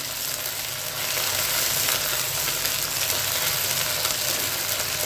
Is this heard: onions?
yes